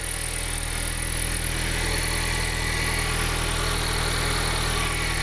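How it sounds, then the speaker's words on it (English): A turbocharged Honda Civic R18 engine idles steadily and close up, a dense mechanical hum with a faint, rapid ticking that may come from an exhaust leak. "Pretty quiet. You hear a little ticking only, but that might be the exhaust leak"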